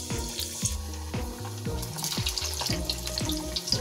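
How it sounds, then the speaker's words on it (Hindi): Potato pieces frying in hot oil for an aloo dish, a close, steady sizzle and bubbling crackle with repeated clinks and stirring sounds over it, no talking. "ये हमारा ऑयल गरम हो चुका है, अब हम इसमें ये आलू को डाल देंगे।"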